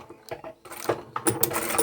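A sewing machine stitches a fabric lanyard in short bursts, close mechanical whirring that starts, pauses briefly, then runs again louder.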